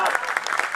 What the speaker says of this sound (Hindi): जितने लोगों ने ताली बजाई है उनको बात समझ में आई है